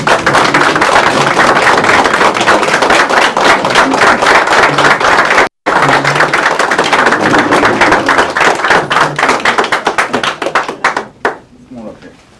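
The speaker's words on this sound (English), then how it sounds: "Let's give him a round of applause." A county commission meeting audience gives the departing mayor a long, loud round of applause, dense clapping with a brief break before tapering off into scattered claps and quiet.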